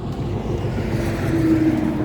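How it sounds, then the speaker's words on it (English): A heavy vehicle rumbles past nearby with a low engine drone and a faint steady whine. "hang on, there's a truck coming."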